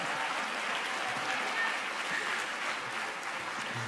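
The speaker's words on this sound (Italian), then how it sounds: "i catechisti di Roma alla parola Suor Rosaria applaudono," Diocesan assembly audience of catechists applauding, a steady wash of clapping heard alone at moderate distance.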